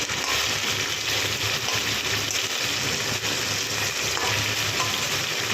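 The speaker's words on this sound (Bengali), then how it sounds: "এবার করে সমস্ত মাছগুলো আমি ভেজে নিচ্ছি।" Small fish such as tangra and bajri sizzle continuously in hot oil in a home kitchen, a dense, loud crackling hiss that holds steady throughout with no talking.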